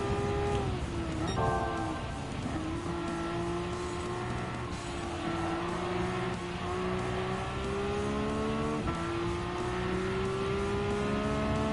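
A Porsche race car engine in Gran Turismo 7 at a Porsche Cup race drones steadily, its pitch rising and dropping through gear shifts, with faint tire squeal and no talk.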